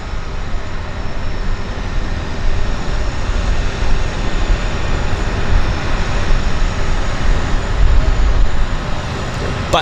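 De Havilland Twin Otter aircraft at Vancouver Harbour Airport, engines producing a loud continuous low rumbling drone with gritty texture that builds slightly toward the end, with faint voices in the background.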